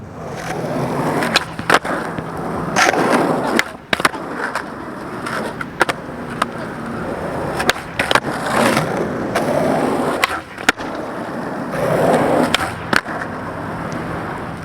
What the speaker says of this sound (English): I had a few tricks I still wanted to scratch off the list, so here's a quick little flatground session